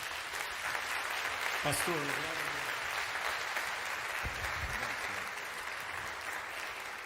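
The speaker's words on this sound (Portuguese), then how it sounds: "Salva de palmas para o nosso Senhor." A church congregation applauds, a steady wash of many hands clapping throughout, with someone speaking briefly over it.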